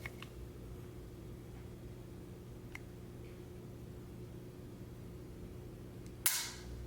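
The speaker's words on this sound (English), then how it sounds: "So let's feel the trigger." A single sharp click near the end as the trigger of a new STI 2011 Tactical pistol is dry-fired, heard alone over a steady low hum.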